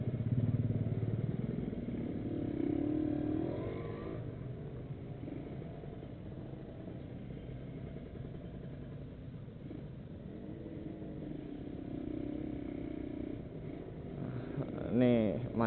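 A Kawasaki Ninja 150RR motorcycle fitted with a PE 28 carburetor, ridden through stop-and-go Jakarta traffic, its engine humming and revving steadily throughout while a rider talks over it.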